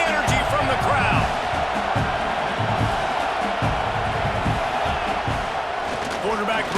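A packed football stadium crowd at an Oregon vs Michigan game roars loudly and continuously during a third-and-goal defensive stand, a dense wall of cheering and yelling with a commentator talking over it.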